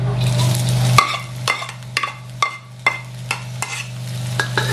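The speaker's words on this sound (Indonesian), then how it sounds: "Kita tumis sampai setengah matang" Coarsely chopped onion sautéing in hot oil in a pan for potato croquettes, a close crackling sizzle with a regular series of sharp spatula scrapes and taps, no one speaking.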